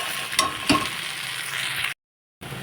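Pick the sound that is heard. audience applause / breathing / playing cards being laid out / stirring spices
stirring spices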